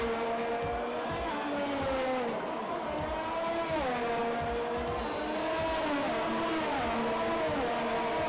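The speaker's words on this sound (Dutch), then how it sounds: "Ik hoor wel auto's over het finish gaan" F1 2020 video-game race car engines whine and rise and fall in pitch as several cars cross the finish line, fairly faint, with synthetic engine tones and no talking.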